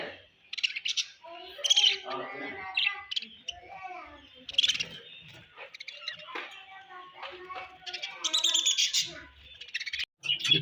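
Budgies chirp and tweet in quick, bright bursts throughout while feeding on raw corn, close and fairly loud, with no talk over them.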